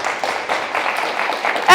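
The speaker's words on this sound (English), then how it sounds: "Give yourself a round of applause." A workshop audience claps, a dense patter of many hands, close and fairly loud, with voices mixed in and a brief whistle-like squeal near the end.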